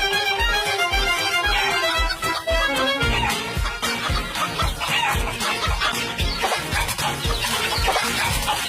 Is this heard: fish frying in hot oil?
no